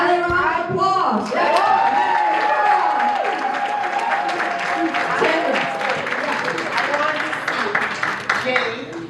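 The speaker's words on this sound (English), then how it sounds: "Another round of applause." Applause and cheering fill the room at a special documentary screening, loud and sustained, with voices and a shouted tone rising over the clapping before it begins to fade.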